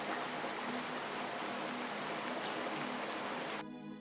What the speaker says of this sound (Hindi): बारिश इतनी तेज थी